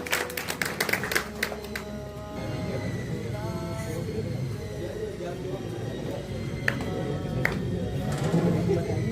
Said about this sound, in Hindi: जोरदार ताली स्वागत करें मनोरमा दीदी